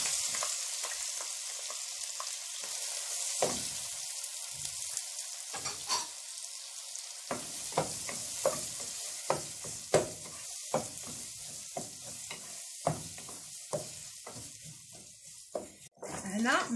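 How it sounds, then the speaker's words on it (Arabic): Boiled tomato sauce is added to onions frying in butter for chicken tikka masala, giving a steady sizzle with frequent stirring and scraping knocks throughout. "ثم نزيدو الصلصه ديالنا اللي سلوقنا."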